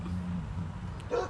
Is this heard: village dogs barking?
yes